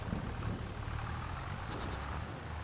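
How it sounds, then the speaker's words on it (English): A low, steady tractor engine rumble in Farming Simulator 25 drones continuously, heavy and even like a tractor motor running after starting. "Let's hop in our tractor. We're gonna drop off the mower. Let's start the engine."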